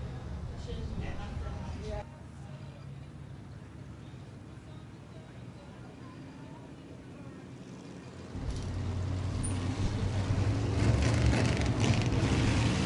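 Vintage race cars lap a dirt speedway to pack the track, a rumbling engine drone that swells louder near the end as cars pass, heard under a track announcer's voice.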